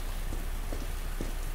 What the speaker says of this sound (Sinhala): ඒ ගේම් එකේ වහිනවද ගේම් එකෙන් නේ ඇහෙන්නේ